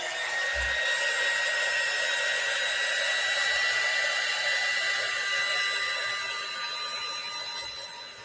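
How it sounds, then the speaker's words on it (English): Electric heat tool blowing hot air onto a craft card, a steady loud whooshing roar with a faint whine, running continuously and close before easing slightly at the end. "I'm going to go ahead and hit it with my heat tool, my new heat tool"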